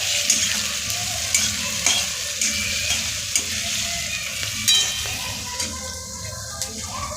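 Tomatoes sautéing in a pan for egg curry, with a constant close sizzle, occasional scraping stirs and light clinks of a utensil against the pan.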